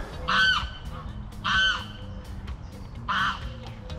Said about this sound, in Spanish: Y aquí un montón de gansos.